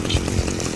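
A chainsaw roars from the video game Manhunt, loud and close in a short continuous burst with a slight pulsing rasp.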